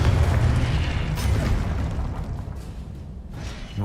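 A Confringo blasting spell going off in Hogwarts Legacy, a broad, rumbling explosion that fills the clip and slowly fades, with a faint whoosh near the start and end.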